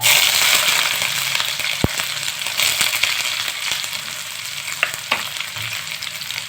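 Chopped onion dropped into hot oil with cumin seeds, dried red chillies and a bay leaf, a loud hissing sizzle that gradually eases, punctuated by sharp clacks of a spoon stirring against the pan, no speech.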